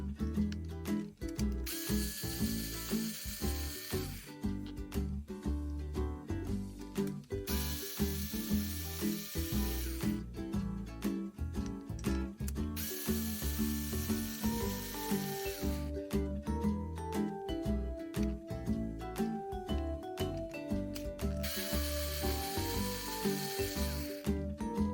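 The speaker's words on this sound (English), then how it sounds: "you need to remove 4 screws" Four screws driven out of an Element RC Enduro crawler, probably with a power driver, as long repeated whirring bursts separated by brief pauses, each run loud and close with a mechanical ratcheting texture.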